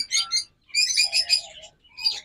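A pair of pet birds offered for sale chirps in quick, bright bursts, with a short pause and then a lower call in the middle, close and fairly clear with no talking.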